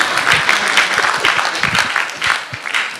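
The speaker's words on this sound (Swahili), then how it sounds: "Makofi jamani." An audience at a business awards event for Tanzania's top 100 mid-sized companies breaks into loud, close clapping that rises and falls in uneven bursts.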